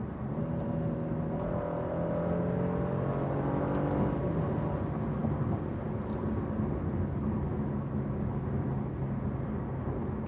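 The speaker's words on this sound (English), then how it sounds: "The engine sound is not inspiring" A 2021 Genesis G80 3.5T engine hums and rises steadily in pitch as it accelerates, heard from inside, a smooth, fairly subdued drone with road noise underneath.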